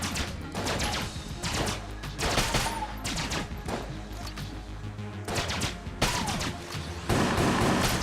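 Rapid, dense volleys of laser rifle fire in the Enter the Gungeon video game, a loud continuous barrage of sharp overlapping shots, some heavier impact bursts and short rising electronic chirps over a busy game soundtrack, with no talking.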